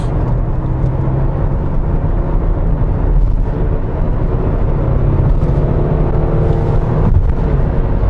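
Toyota Camry 50/55 accelerating hard in sport mode, heard from inside as a loud, steady low engine drone and road rumble that holds throughout with slight rises, no talking.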